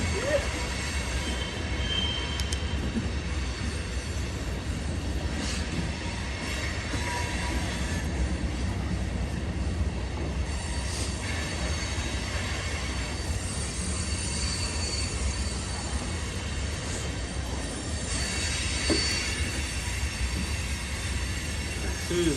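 A train rolls past in Old Town Spring, Texas, its wheels squealing in long, high metallic whines over a continuous heavy rumble of rail cars.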